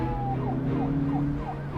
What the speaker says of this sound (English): She then spots a police car in her side view mirror, slowly catching up to her.